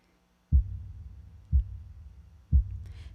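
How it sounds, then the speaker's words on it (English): A heartbeat-like perk sound from a music track, three deep, evenly spaced low thumps about one second apart, each with a short rumbling tail, heard alone and fairly loud. "I wanted it to be almost like a heartbeat that just is very constant and steady and just goes throughout the whole thing."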